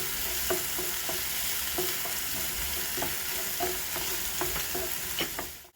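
Vegetable fried rice with a little margarine is stirred in a hot frying pan, a steady sizzle broken by regular scraping strokes of the spatula, close and fairly loud with no talking.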